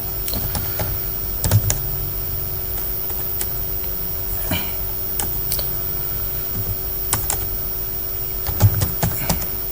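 Typing on a computer keyboard while writing in MS Word, heard as scattered light key clicks, sometimes in quick bursts, over a steady electrical hum and background noise.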